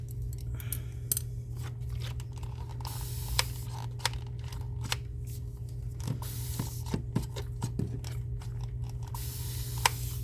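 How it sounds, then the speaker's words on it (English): Quick bursts of spraying water from a spray bottle onto resin pieces to remove glue, several short sharp spritzes scattered over a steady low hum. "That's just water that I'm spraying."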